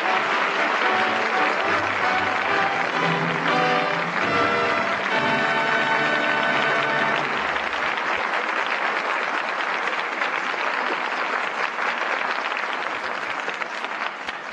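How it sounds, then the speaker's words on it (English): Sustained studio audience applause at the curtain fall of a Lux Radio Theater broadcast of Father Was a Fullback, a steady wash of loud clapping throughout, with orchestral music swelling underneath in the first half. "the curtain falls on Father Was a Fullback, and that well-deserved applause calls back our stars"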